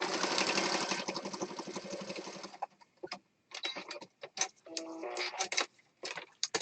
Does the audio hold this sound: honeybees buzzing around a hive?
no